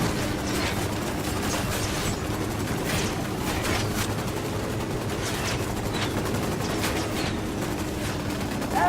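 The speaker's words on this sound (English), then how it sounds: "Opening fire on these fuckers." Sustained gunfire in the Ghost Recon Wildlands game: rapid bursts of automatic shots, some loud and close, some farther off, over a constant rumbling background mix.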